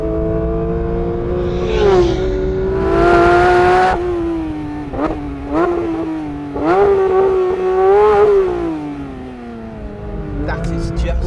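Porsche GT3 race car on a circuit lap, its engine loud and close, rising through gears in repeated surges, then falling under hard braking, with someone talking over it.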